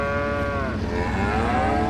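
Cows in the Farming Simulator 25 video game give a loud, sustained, close moo with deep harmonic tones that waver in pitch, heard alone.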